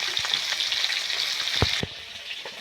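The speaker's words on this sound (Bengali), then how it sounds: "টকের মাছগুলো ভাজা হচ্ছে" Fish frying in oil gives a bright, steady sizzle with a few soft knocks, then the sound drops to a quieter crackle near the end.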